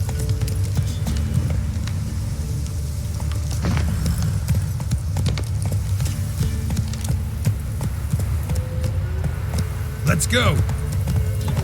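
Horse hooves clip-clop steadily through the gameplay of The Witcher 3 while a rider urges the horse on, over a low game ambience, with brief talk and a rising tone near the end.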